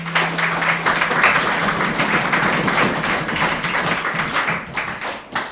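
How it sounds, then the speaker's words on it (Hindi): An audience claps at a Youm-e-Takbeer speech and essay competition at Muslim College Multan. The applause is brisk, dense and fairly loud, sustained throughout, with a faint electrical hum at the start. "तो उनके लिए बहुत सारी तालियाँ"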